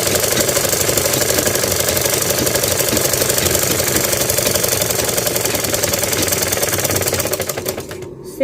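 A sewing machine stitches the sleeve fabric of a lehenga blouse, running steadily and fast with a dense mechanical clatter for about eight seconds before it slows and stops at the end.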